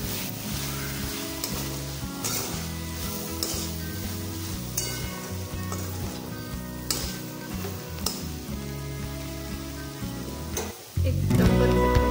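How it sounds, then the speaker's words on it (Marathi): Fenugreek greens (methi bhaji) sautéing in a pan, a steady close crackling sizzle throughout with stirring scrapes, then a louder rush near the end. "भाजी आता परतून बघूया।"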